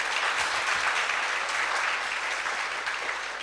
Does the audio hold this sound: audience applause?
yes